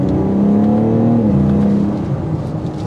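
2023 BMW M4 Competition accelerating hard, a loud, close engine note rising in pitch through the revs and then easing off as it settles, with no talking.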